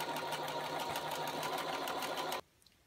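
A sewing machine runs in a fast, even stitching burst as it sews hook and loop tape onto fabric, loud and close, then stops abruptly near the end.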